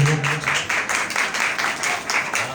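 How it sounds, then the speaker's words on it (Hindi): A crowd of devotees claps loudly and steadily for a couple of seconds at an ISKCON Hyderabad sankirtan gathering, with a dense, even patter of hands. "ये जो कि हमारे जनार्दन प्रभु के लिए जोरदार ताली होनी चाहिए।"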